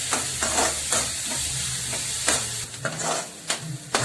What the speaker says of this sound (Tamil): வெங்காயம் சேர்த்து நல்லா வதக்கி விடலாம்